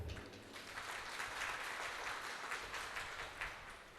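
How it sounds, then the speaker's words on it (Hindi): Faint, steady applause from an audience at a student felicitation ceremony at an old age home, a soft continuous patter of many hands heard at a distance for a few seconds. "मैं सभी लोगों से दरख्वास्त करूँगा कि उनके लिए एक बार ताली बजाएं"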